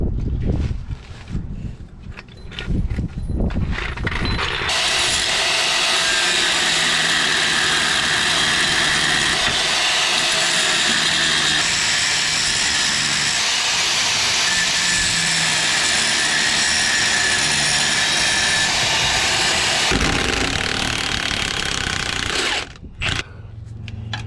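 An angle grinder cuts off bolts on a 1969 GMC truck in a loud, steady, harsh roar that holds for about fifteen seconds before winding down, with clanks and shop noise before and after.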